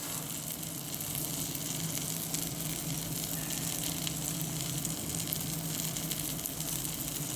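Tortang talong, an eggplant omelette with egg, frying in a pan with a steady, close hiss and crackle of oil that holds at an even level throughout, with no voices.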